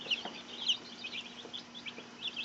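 Silkie chickens clucking and chattering close by, a steady run of short soft clucks and peeps with no talk over them.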